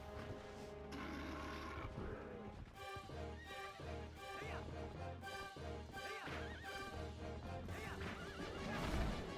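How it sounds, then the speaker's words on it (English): A war pig charges in Zelda: Twilight Princess, heard as loud squealing, snorting game-creature cries over steady pounding hooves and crashing action sounds, with a constant dense game soundtrack. "Oh, it's a war pig."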